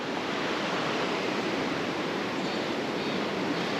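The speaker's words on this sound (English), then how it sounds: "Sandy beach" Waves wash steadily onto a sandy river beach near West Linn, outside Portland, Oregon, a continuous, even hiss of water that fills the whole stretch without a break.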